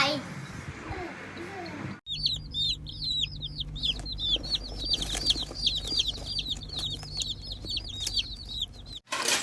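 Many chicks peep continuously in a brooder at home, a dense chorus of high, rapid chirps over a low steady hum, with children's voices and household noise in the background.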